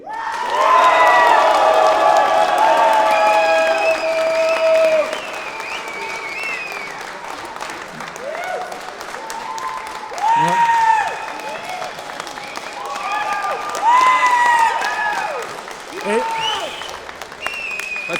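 Ovation for a fighter at a TDFC8 fight-league press conference, loud sustained clapping and cheering from a crowd with shouts and whistles over it, rising and falling in bursts.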